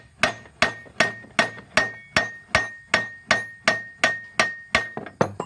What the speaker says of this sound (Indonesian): Bisa dipukul atasnya sini biar gerak ya.